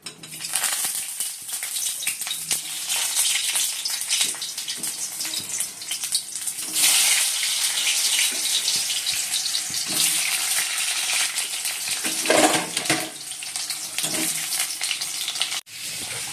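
Potatoes frying in hot oil in a wok, a loud continuous crackling sizzle with occasional stirring scrapes, steady and close throughout.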